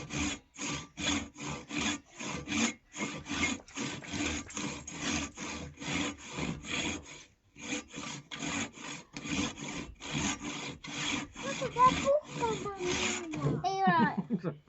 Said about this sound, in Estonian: Kui sa saed, siis sa saed.